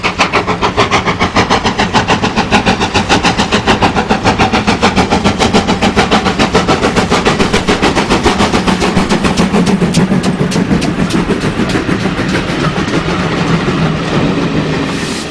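A West Somerset Railway 4300-class 2-6-0 steam locomotive, rebuilt from a 2-6-2 tank engine, runs close by. Its loud, steady chuffing exhaust beats rhythmically throughout, over continuous mechanical rumble and clanking.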